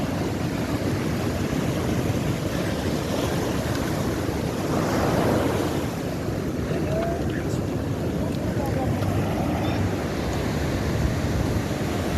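Sea waves roll and break continuously on the shore at a surf festival in Şile, a loud, close, wind-blown roar that swells briefly around the middle, with voices audible in places.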